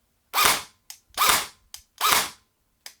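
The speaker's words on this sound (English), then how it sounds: "I've hooked up a battery We'll try semi-auto." An airsoft MP5/G3/G36 Version 2 gearbox, repaired and powered by a battery, fires three sharp semi-auto shots about three-quarters of a second apart, each followed by a small mechanical click, in a quiet room.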